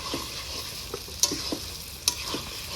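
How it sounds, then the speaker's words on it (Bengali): Potatoes frying and being stirred into masala in a pan, a continuous sizzle broken by repeated scrapes and two sharp clinks of a spatula against the metal. "এখন আমরা এই আলুটা দিয়ে আবার কষাবো।"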